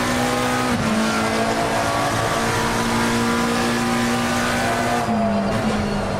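A Ferrari GT3 race car at Silverstone holds a steady, loud engine drone with a brief dip as it slides through a corner, then carries on at high revs.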